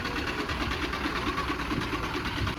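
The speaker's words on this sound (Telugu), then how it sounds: "ఏంటో ఒకటే సౌండ్ అవుతుంది ఇంజిన్ ఏసీ వేసి పండుకున్నట్టున్నారు" A steady idling bus engine, running to power the air conditioning, drones with a rapid pulsing rattle, continuous and close, with no voices over it.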